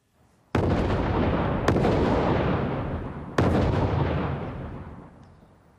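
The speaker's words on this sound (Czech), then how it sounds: "Složitý mechanismus zajišťoval postupné exploze." Three huge booming blasts in sequence, each a sudden explosive onset followed by a long rumbling decay, stand in for the successive nuclear explosions meant to propel a pulse rocket.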